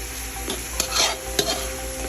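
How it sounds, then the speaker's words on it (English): Chicken browning in a frying pan for tamarind chicken is stirred steadily, with a constant close sizzle and several distinct scrapes of the utensil against the pan. "You have to keep stirring. So it won't burn."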